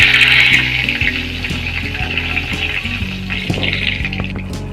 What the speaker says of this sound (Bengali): ওই তেলের মধ্যে এবার তেজপাতা ফোড়নে দিয়ে দিচ্ছে